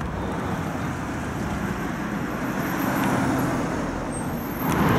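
Car traffic passes along a road beneath a pedestrian bridge in Dushanbe, a steady broadband roar of motor vehicles that swells slightly near the end, heard from above with no talking.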